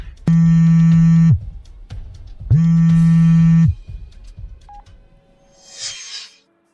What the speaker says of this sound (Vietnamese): Để tôi xem, có phải gọi cho 100860?